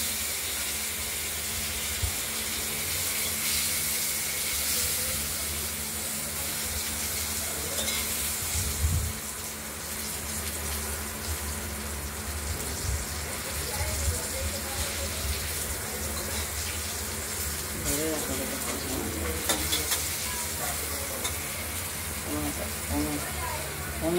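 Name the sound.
cut potatoes frying in oil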